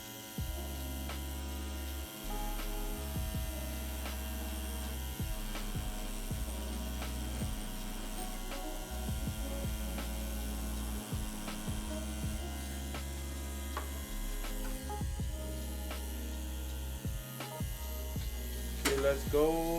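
Tattoo machine buzzes in steady bursts that start and stop repeatedly, a close electric hum with short pauses between passes while tattooing a logo.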